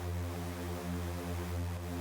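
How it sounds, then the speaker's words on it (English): Fuzzy bass synth from an unprocessed Serum preset holds a thick, buzzy sustained low note with dense harmonics, steady and quiet, alone without other sounds. "this is just a Serum preset without any processing"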